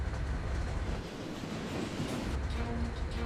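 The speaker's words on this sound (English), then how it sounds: "The train was speeding." A runaway train speeding downhill toward San Bernardino at about 72 km/h with air brakes on full: a loud, continuous rumbling roar of wheels on track with rattling and a faint metallic squeal.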